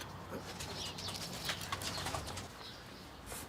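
Racing homing pigeon landing at its loft in the Ardennes, a quick flurry of flapping wings close by, brief and fairly faint, with no voices.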